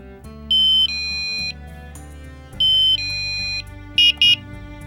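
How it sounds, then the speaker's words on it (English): Fall Fighter bed monitor alarm sounding when weight leaves the pad: loud, close electronic beeping tones in repeated bursts, two long tones followed by two short pulses. "the alarm sounds to summon help."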